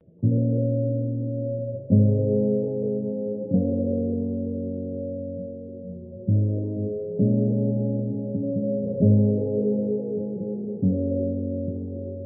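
Deep, dark sustained acoustic guitar chords with a soft pad-like swell, changing every couple of seconds, muffled and bass-heavy with no talking.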